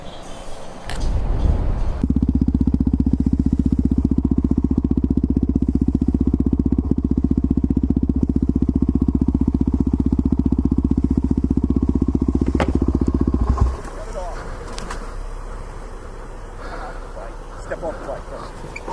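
A motorcycle engine idles loud and close with a steady, throbbing drone for about eleven seconds, then cuts off abruptly, leaving a quieter roadside background where faint voices talk.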